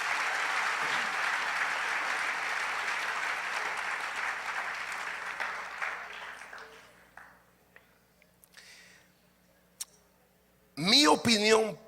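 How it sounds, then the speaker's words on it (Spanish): A church congregation claps loudly together for several seconds before the applause fades away into near silence, after which a voice speaks briefly. "¿Cuánto le da un aplauso fuerte al Señor?"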